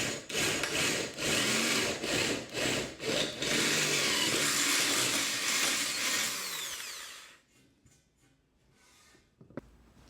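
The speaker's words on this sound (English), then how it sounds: "now we're going to go back around with our 5/16 inch bit and drill our bigger holes" A power drill with a 5/16 inch bit bores through wood with a harsh, grinding whir in several bursts for about seven seconds, then stops, leaving near silence and a faint click.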